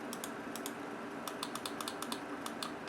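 Sharp, close clicks come from a computer keyboard as keys are tapped in an uneven typing rhythm, about a dozen distinct strikes over faint background hiss, no voices.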